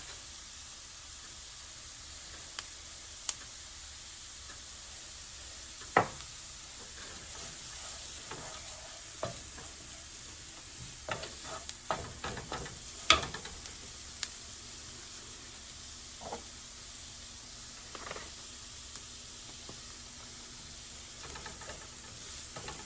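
Minced garlic sautés with softened, translucent onion in a pan for shrimp in red sauce, a quiet continuous sizzle broken by scattered clinks and stirring scrapes, with no talking.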